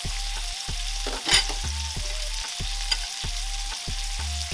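A Wagyu ribeye steak fries in butter in a hot pan, giving a loud, close, continuous sizzle with rhythmic pulsing bursts and one sharper spatter, and no voices.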